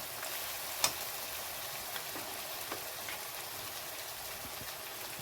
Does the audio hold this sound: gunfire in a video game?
no